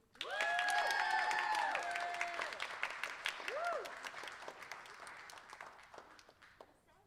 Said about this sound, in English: let's get a round of applause for Rosella Stewart